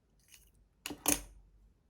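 Scissors snip knitting yarn while finishing a knitted dog cape, two quick crisp metallic cuts close to the microphone in an otherwise quiet room.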